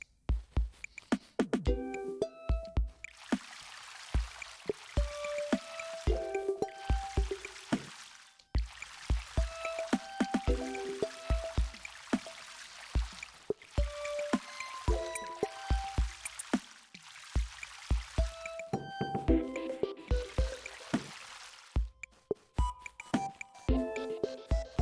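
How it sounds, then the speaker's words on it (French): In a farming video game, a watering can is filled with water. Repeated bursts of trickling and pouring alternate with short tonal chimes and clicks, at a moderate level with no speech. "Alors, remplissons notre arrosoir."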